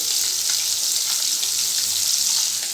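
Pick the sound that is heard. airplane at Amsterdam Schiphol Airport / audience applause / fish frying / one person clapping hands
fish frying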